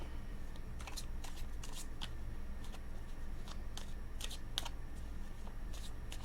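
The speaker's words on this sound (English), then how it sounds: "Let me shuffle all my cards." A deck of cards is shuffled close to the microphone, giving repeated quick riffling bursts in an irregular rhythm against a quiet background.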